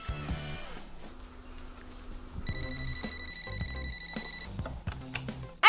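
A telephone rings with a high electronic trill, the tone sounding for a couple of seconds amid a light musical backing and scattered knocks, with no talking.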